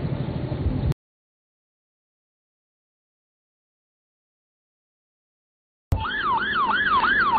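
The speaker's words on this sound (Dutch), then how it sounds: "Terug in Pristina zien we een Britse ambulance voorbij schieten." British ambulance siren passing by in Pristina, a rising and falling wail heard after a long gap of silence, loud and close over road traffic noise.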